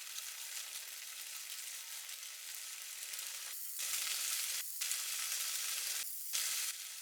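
An egg frying in a pan gives a steady bright sizzle that briefly drops away several times as it is moved or flipped.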